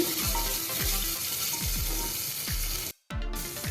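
Onion sautéing with a little salt in a pan for tomato rice, a steady loud sizzle broken by a few rhythmic scraping strokes and a brief near-silent gap before the frying resumes.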